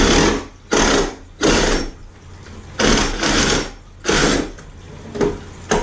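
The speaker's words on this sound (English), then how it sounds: "It's easier with a sawzall, but if you got a hacksaw," A saw cuts through a plastic kayak fishing crate in loud, close, rhythmic strokes, about eight rasping bursts separated by short gaps.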